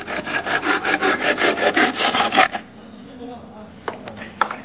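A hand saw cuts along the side of a piece of wood in a rapid rhythmic run of about a dozen rasping strokes, close and loud, then stops, leaving faint knocks and rustles with a voice in the background.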